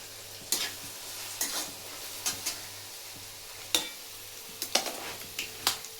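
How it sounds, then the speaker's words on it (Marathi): Onion sautéing in a pan for poha, with a soft background sizzle broken by repeated sharp spatula scrapes and stirring clicks at irregular intervals, no talking. "कांदा परतत आहे"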